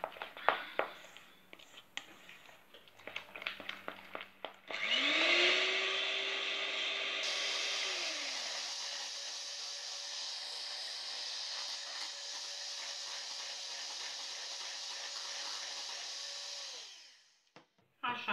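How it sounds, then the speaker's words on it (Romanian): An electric hand mixer whips egg whites with cinnamon for zefir, starting with clattering and bowl knocks, then a loud steady whirring drone with a rising pitch that runs for many seconds before cutting off. "Și apoi facem cu mixerul."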